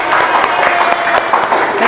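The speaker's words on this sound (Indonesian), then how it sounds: "Tepuk tangan untuk temannya." Classmates applaud during a classroom ice-breaking session, a steady dense patter of many hands clapping close by for the whole stretch, with voices mixed in.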